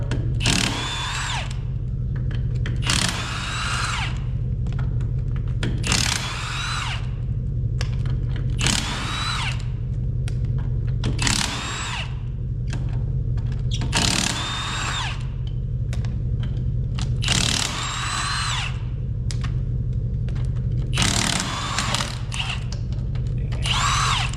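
A power impact tool removing lug nuts from an Allis Chalmers 8010 tractor wheel, firing in loud repeated bursts of about a second each at a steady rhythm, close up, with no talking.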